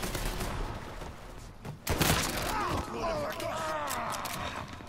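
Rapid bursts of gunfire crackle amid shouting voices in a Mafia III video game shootout, with a louder volley midway and more shots trailing off.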